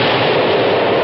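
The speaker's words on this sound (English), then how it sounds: "the echoing of a cannon shooting across the water" Cartoon cannon shot echoing across a river, a loud, dense rumbling boom that fills the whole moment and rolls on without a break, alone with no voices.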